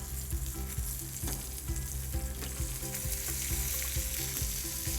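Chicken pieces fry skin side down in a hot pan for chicken marsala, a loud continuous sizzle broken by regular knocks and stirring taps, close and uninterrupted by talk.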